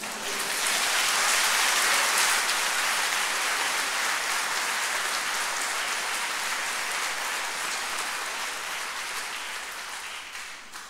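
A church congregation applauds, sustained dense clapping that fills the space and fades gradually toward the end, with no voices over it.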